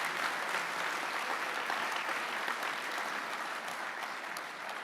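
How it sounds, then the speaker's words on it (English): A school auditorium crowd at a senior awards night applauds steadily, a dense, even patter of many hands at moderate distance that keeps going without speech. "I think they deserve a round of applause before I read these just for that."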